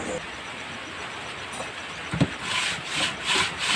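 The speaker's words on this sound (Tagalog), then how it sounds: "Liha tayo ng liha para mapantay." Scratchy rubbing of sandpaper across a motorcycle engine gasket surface, a steady gritty friction that grows into rhythmic strokes toward the end, with a brief knock midway.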